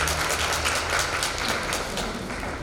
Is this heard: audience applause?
yes